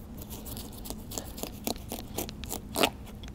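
Knife slicing into a large homegrown watermelon, a steady run of crisp scraping and crunching strokes with rind crackling, close up, rising to a louder crack near the end, with no talking.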